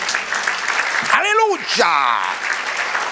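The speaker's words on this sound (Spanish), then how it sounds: "Denle un aplauso al Señor." A church congregation applauding during a sermon: steady, dense clapping fills the whole stretch while a man's loud, exultant voice rings out over it.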